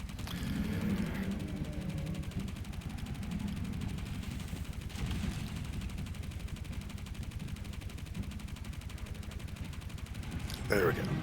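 Rapid sustained automatic gunfire from the Dakka build in the video game Borderlands 3, a dense continuous rattle of shots running through the whole stretch at a fairly steady level.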